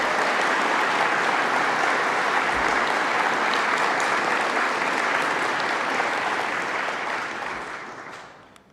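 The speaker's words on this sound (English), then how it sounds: "So if we could give her a huge round of applause" Loud, dense applause from a conference audience at a Django developer event, sustained evenly for about seven seconds before tapering off at the end.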